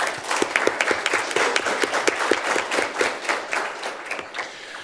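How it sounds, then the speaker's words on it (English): Audience applause in a student senate chamber, steady dense clapping from a room of people lasting the full five seconds. "Let's give Grace a little round of applause for that."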